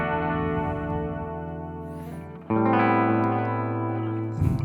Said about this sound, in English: I have a stereo delay, ping pong delay, a lot of reverb, and this gives us the really wide, blurry sound, which really makes the chorus effect nice